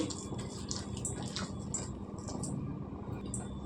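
Raw banana bajji batter being mixed by hand with added water, a steady close wet squishing and slopping with faint drips throughout.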